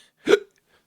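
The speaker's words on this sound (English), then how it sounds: "Excuse me, that was a hiccup." A single short, sharp hiccup from a man, close and alone, with quiet before and after.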